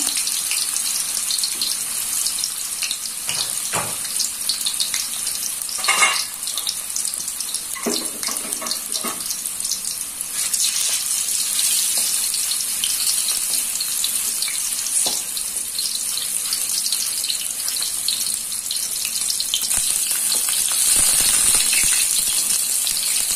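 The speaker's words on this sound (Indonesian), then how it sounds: "ini untuk tahunya saya goreng ya" Pieces of tofu fry in hot oil, making a constant dense hiss with scattered pops and crackles that runs close and fairly loud throughout, with no voices.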